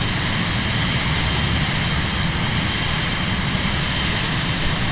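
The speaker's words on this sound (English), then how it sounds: "this is a jet. This isn't a propeller-driven plane." A jet airliner's engines in Microsoft Flight Simulator give a steady, loud broadband roar with a deep low rumble, constant throughout with no break and no voices.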